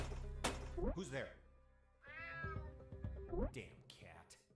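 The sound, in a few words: cat meowing in video game UnMetal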